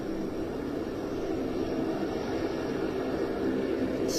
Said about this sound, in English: C-130E from number 6 squadron of the Pakistan Air Force